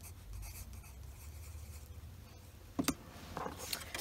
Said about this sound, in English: And I'm going to write on the back.